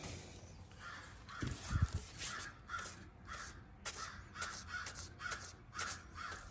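A crow caws repeatedly outside, a steady series of harsh calls at a moderate distance, with a couple of low thumps early on and no speech.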